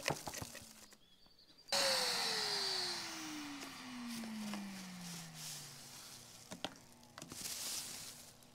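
A household vacuum cleaner starts up loudly after a short quiet gap, its motor whine sliding steadily down in pitch as it settles into a steady roar, used to suck a plastic grocery bag and string through electrical conduit.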